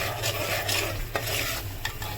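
Spice masala roasts in oil in a pan for a crab and prawn dish, a continuous close sizzle broken by a few scraping stirs of a spoon.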